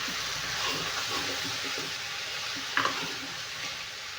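Chopped tomatoes fry in a pan with a soft, steady sizzle and faint stirring scrapes, fairly quiet and close, with a brief clatter near the end.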